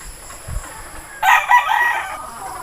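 A Gilmore gamefowl rooster crows once at mid-distance, a loud, strained call lasting about a second after a brief quiet stretch.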